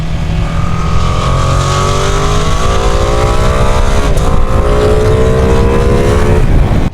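A Ducati motorcycle on an Alpine road accelerates hard once the speed limit lifts, its loud engine note climbing through the gears with rising, sweeping tones and a brief shift midway, close and dominant.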